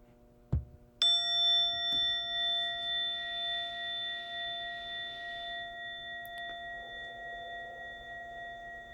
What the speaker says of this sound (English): in a moment, you'll hear a bell or a chime. Listen to it as it gets quieter and quieter.